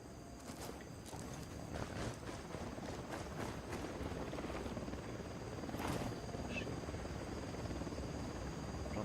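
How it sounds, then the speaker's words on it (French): A helicopter's rotor chop in the video game Ghost Recon Wildlands drones steadily throughout, loud and close, with scattered clicks and faint background sounds mixed in. "J'entends un hélico mais je le vois pas."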